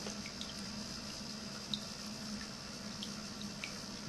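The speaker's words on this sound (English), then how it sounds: "Delicate, pleasant water sounds, no splash out." A handmade stoneware seashell cat fountain with an adjustable pump trickles softly, a quiet continuous flow with occasional faint drips over a low steady pump hum, no splashing.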